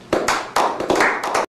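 A few sharp, close hand claps in a quick uneven burst, five or six loud slaps in about a second.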